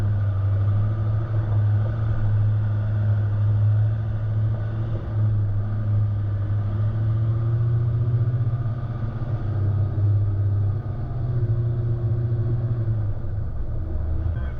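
A 4WD vehicle drives along the rocky, tree-lined Border Track, giving a steady, loud low engine drone and rumble that holds constant throughout with no talk.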